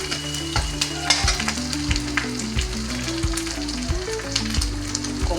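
Food fries in hot oil in a pan before pumpkin goes in, a constant close sizzle broken by repeated scraping strokes as a ladle stirs the pan in an uneven rhythm.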